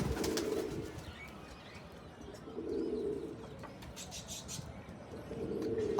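Pigeons coo in low, throaty bursts, three separate rolling calls spaced a couple of seconds apart, close at hand with faint chirps and rustling between them.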